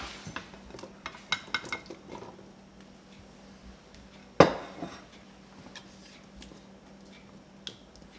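About 1.5 pounds of small, cleaned red potatoes dropped into a cooking pot for a crawfish, corn and potato bisque: a cluster of light knocks and clatters, then one sharp loud thud and a few faint bumps, no talking.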